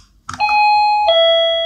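Wireless battery-powered doorbell chime: a short clicky press, then a bright two-tone ding-dong that rings out clearly and sustains, with no voices.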